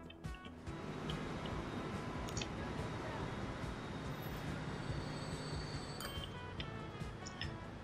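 Trains run on a rail network in Transport Fever 2, giving a faint, continuous rumble of wheels on track with scattered light clicks and a thin squealing tone, heard alone without talk.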